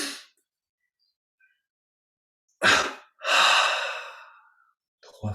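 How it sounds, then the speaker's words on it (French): A slow, audible exhalation during a guided relaxation breathing exercise, heard close and alone: a short breath at the start, then a sharp intake followed by a longer, fading breath out, with a faint breath at the end. "Expire, détente."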